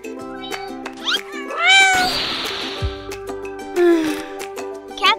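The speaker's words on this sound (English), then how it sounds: "Cats are so annoying." A house cat meows several times up close, with drawn-out, wavering cries and a brief rush of noise in between, heard without any talking.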